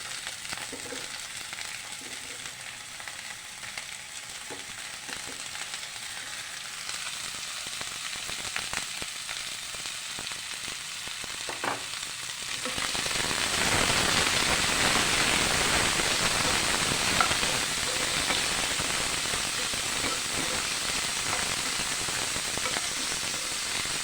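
Beans and potatoes frying in a pan for a mixed vegetable fry, a steady close sizzle that turns louder and denser partway through, then holds as a continuous hiss with no talking.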